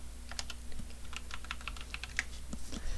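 Typing on a computer keyboard, a quick irregular patter of light key clicks close by, with brief pauses between bursts and a faint steady hum underneath.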